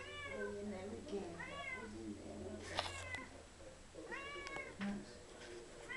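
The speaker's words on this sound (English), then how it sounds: "Nice cat here." A cat meows repeatedly indoors, several rising drawn-out calls in two clear bursts, close and fairly loud, with a brief sharp clatter between them.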